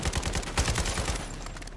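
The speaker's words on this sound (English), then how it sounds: "lean out and shoot our vehicle" Rapid gunfire from a Modern Warfare 2 video game, a short burst of quick, loud automatic shots in close succession lasting under two seconds.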